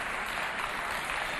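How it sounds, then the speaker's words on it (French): An audience at a Chadian television variety show applauds, giving a dense, steady wash of clapping that is loud and continuous for a short stretch. "On applaudit très très fort pour les deux,"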